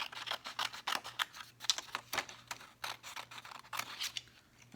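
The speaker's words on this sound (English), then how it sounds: "And then let's cut this out." Scissors snip repeatedly in quick, uneven strokes, close and fairly loud, cutting something out of paper or craft material, with no talking.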